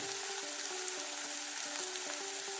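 Potato pieces fry in oil with a constant, even crackling hiss and a faint steady hum behind it. No speech.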